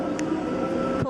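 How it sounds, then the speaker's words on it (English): Panama Canal towing locomotives, the small electric rail units that pull a cruise ship through the locks, give off a steady mechanical rumble and hum for about a second, with a brief clank near the end. "Here's the little trains."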